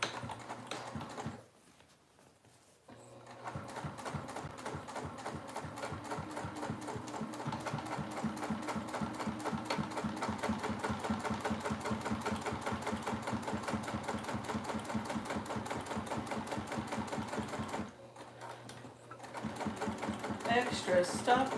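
A sewing machine runs top stitching along fabric with a fast, even mechanical chatter. It stops briefly twice and then starts again, and a voice talks over parts of it.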